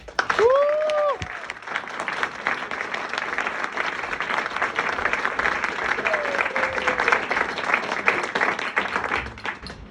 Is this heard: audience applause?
yes